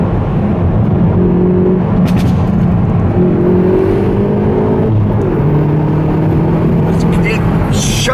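A 275 brake horsepower performance-pack car drives along Irish roads with a loud, steady engine drone and road roar filling the cabin, the tone rising slightly as it pulls, while people talk over it.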